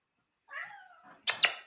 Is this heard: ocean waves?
no